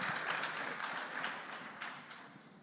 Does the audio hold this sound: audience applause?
yes